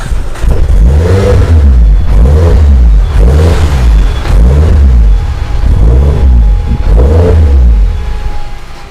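Turbocharged Proton Waja MIVEC engine, tuned to high horsepower with a large turbo, revving repeatedly while warming up: loud, close, rhythmic rise-and-fall blips roughly every second, with no talking.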